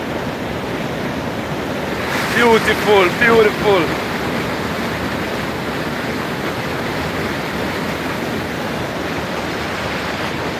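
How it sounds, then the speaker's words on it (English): Broadband rushing roar of a waterfall near a Blue Mountain coffee farm, steady and loud throughout, with wind buffeting the microphone and a voice speaking briefly over it early on. "look at that waterfall right there"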